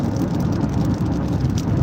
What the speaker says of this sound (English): Weather is not, yeah, well, it's raining, yeah. Precipitation.